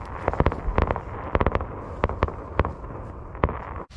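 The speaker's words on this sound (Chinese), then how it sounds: "刚想做饭，突然放起了烟花来了" Fireworks burst outside at night in freezing weather near a campervan, a rapid series of sharp cracks and bangs in uneven clusters, fairly close and loud, with a rumbling wash between the pops.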